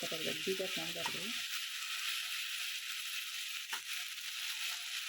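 Eggplant going into a pan for vangi bath, a soft steady sizzle under a brief burst of voice at the start, then frying alone and fairly quiet.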